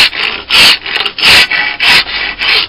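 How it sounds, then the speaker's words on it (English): Coarse rasp with large teeth drawn across a piece of wood being shaped into a prop machete, six loud, close rasping strokes in an even back-and-forth rhythm with short pauses between them, no talk. "Actually, just the weight of the rasp now, just the weight of it gliding across."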